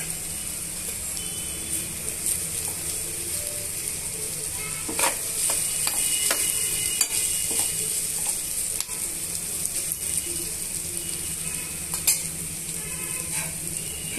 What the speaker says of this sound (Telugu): ఇప్పుడు ఇందులోనే కడిగి పెట్టుకున్న కరివేపాకును కూడా యాడ్ చేసుకోవాలి